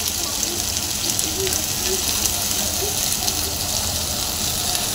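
Fish simmers in its own released water, giving a soft, continuous bubbling sizzle up close with faint crackles throughout.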